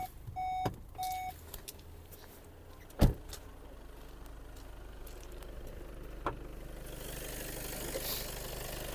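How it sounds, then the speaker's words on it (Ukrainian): A Volkswagen Passat B8 Highline idles with a low steady hum after a couple of electronic beeps and a sharp door-like thunk, the rumble swelling toward the end. "Двигун у нас працює чудово"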